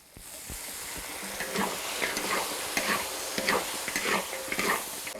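Chicken pieces stir-fry in a wok after a splash of cooking wine, giving a soft, steady sizzle with intermittent scraping stirs, close but fairly quiet, with no talk over it.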